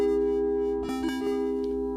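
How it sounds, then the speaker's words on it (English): A soft, steady electronic augmented chord in 22 equal temperament holds evenly for about two seconds, with a few faint clicks partway through. "2 major thirds makes an augmented chord"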